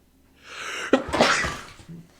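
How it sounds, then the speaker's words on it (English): A single loud human sneeze, built up with a sharp intake of breath and then a forceful burst, followed by a short breathy exhale, heard up close and alone. "Sneeze time."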